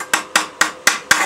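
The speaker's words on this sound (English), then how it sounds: "with the chipping hammer just going to chip" A chipping hammer strikes the slag off an arc weld, giving five sharp, evenly spaced metallic taps that are close and loud, with no voices.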